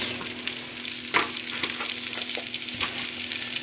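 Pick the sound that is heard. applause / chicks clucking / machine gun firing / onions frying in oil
onions frying in oil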